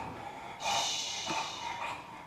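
Snorting and breathing in a dark old house, The Moat House in Tamworth, during a quiet ghost-hunting vigil: a soft breath, then a louder airy snort-like rush that fades, with faint hiss between, close and alone.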